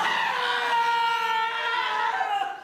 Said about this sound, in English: No, that was two screams.